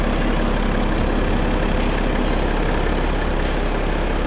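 The engine of a BMW 640d xDrive Gran Coupe runs at a steady idle, heard close up from the open engine bay as a loud, even, unbroken hum with no talking.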